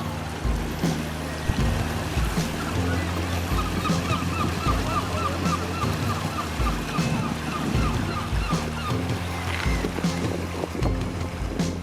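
Waves washing onto a beach at Anstruther, a harbour town, heard as a steady broadband wash with faint bird honks drifting in from afar.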